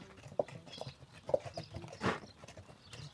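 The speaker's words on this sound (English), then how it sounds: "Look at these horses." Horses walking on a hard surface, a series of sharp hoof clip-clops at an uneven walking pace, close and distinct, with a brief snort or rustle midway.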